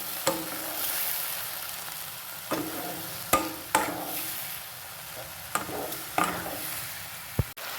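Button mushrooms fry in a wok with a continuous sizzle, broken by several sharp clacks as a spoon stirs and scrapes the pan.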